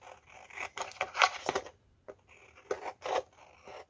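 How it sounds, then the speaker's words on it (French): Scissors snip through decorative planner paper for an Alice in Wonderland themed spread, cut by hand in several short bursts of crisp snipping and rustling, close and fairly quiet, with brief pauses between cuts. "je vais découper simplement au ciseau"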